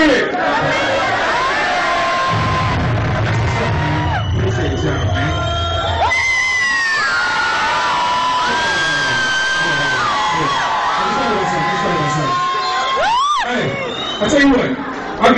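A live concert crowd at a rapper's show, during one of his songs, shouts his name together. Loud massed voices rise in drawn-out, wavering chants and whoops, dense and close for the whole stretch.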